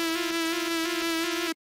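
A synthesized guitar tone made in FL Studio, played without legato, holds one bright, buzzy sustained note for about a second and a half before cutting off abruptly into silence.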